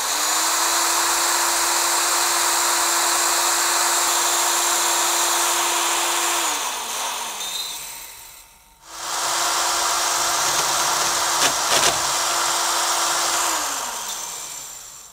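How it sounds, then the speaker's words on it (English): A heavy-duty Craftsman drill fitted with a hole saw and drill bushing cuts into a machine panel, giving a loud, steady motor whine in two long runs separated by a brief pause. "Got the hole saw installed and the drill bushing and ready to start drilling."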